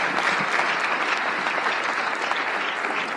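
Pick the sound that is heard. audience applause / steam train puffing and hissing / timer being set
audience applause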